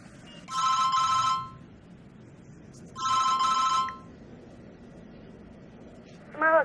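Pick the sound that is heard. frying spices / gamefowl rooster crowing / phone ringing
phone ringing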